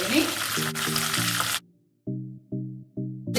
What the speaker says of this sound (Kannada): 2 ನಿಮಿಷ ಫ್ರೈ ಆಗಬೇಕಿದು.